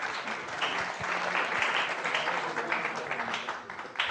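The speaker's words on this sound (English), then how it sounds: "Round of applause for Majestic" An audience applauds a sponsor named Majestic at an SEO community event, a dense, steady wash of many hands clapping at once that holds evenly loud for the whole stretch.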